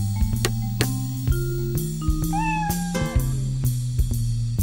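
A house cat gives a short rising meow midway through, set against a steady bed of harmonic music tones and brief percussive hits.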